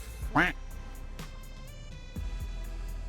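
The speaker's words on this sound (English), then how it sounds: "Is that a duck?" A single sharp duck quack rings out clearly near the start, followed by a quiet low hum and faint background sounds while someone talks.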